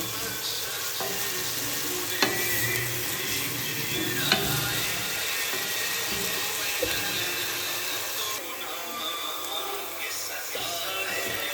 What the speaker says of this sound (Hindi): प्याज को हल्का ब्राउन करेंगे।